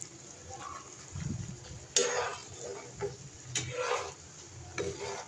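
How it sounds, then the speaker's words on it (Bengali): A lid is lifted off a pot and a taro-root masoor dal curry is stirred: scraping spoon strokes and a few sharp metallic clinks over a soft simmering sizzle, close and moderately loud. "এখন ঢাকনা তুলে আবারও কিছু সময় নেড়েচেড়ে"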